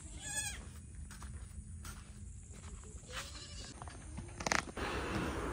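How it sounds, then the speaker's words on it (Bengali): Black Bengal goats on a farm in Jhargram stand waiting to enter their night shelter, giving a single clear bleat near the start, with quieter farmyard shuffling and rustling continuing behind. "ছাগলগুলো এবার নাইট শেল্টারে যাওয়ার জন্য দাঁড়িয়ে আছে"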